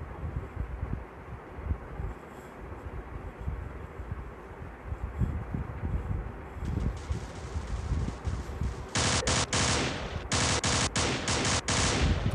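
Rapid gunfire rattles through a standoff shooter video game, with bursts of automatic shots over a busy, noisy game background. It builds into dense, loud continuous fire near the end.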